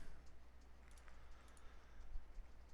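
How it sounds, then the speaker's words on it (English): Fingers type on a computer keyboard during a chat stream, faint scattered key clicks in an irregular rhythm over quiet room noise. "Typing."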